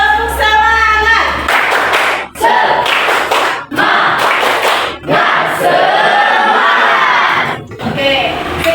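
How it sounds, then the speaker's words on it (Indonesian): A group claps a rhythmic 'tepuk semangat' spirit clap led by a female teacher, with loud, dense bursts of hand claps and excited voices repeating in sections with short breaks between them. "Kalau ibu bilang tepuk semangat, berarti kita harus tepuk semangat."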